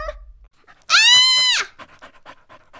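A dog pants close by in quick rhythmic breaths, broken in the middle by a short, high, drawn-out whine before the panting resumes.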